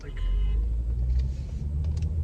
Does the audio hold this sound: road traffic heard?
yes